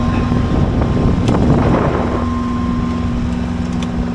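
A sailboat motoring under engine power gives a steady, loud drone with a constant hum, along with wind rush and water noise around the boat, and no speech.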